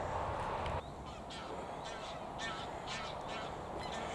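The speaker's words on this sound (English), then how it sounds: "Couple of geese just gone over." Geese honk several times in the distance, repeated calls passing overhead above a steady outdoor rumble on an uphill country walk in the Lake District.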